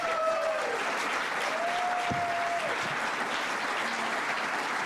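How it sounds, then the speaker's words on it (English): A round of applause from the audience at a New York governor's announcement on congestion pricing, a steady wash of clapping with a few faint voices and whistles mixed in. "Let's give her one more round of applause"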